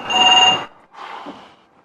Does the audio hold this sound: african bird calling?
no